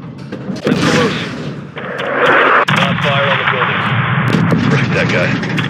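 Heavy artillery rounds slam down in a Call of Duty: Modern Warfare II firefight, loud, dense booms and rumbling blasts filling the whole stretch, with a sharp crack partway through and voices talking over the barrage.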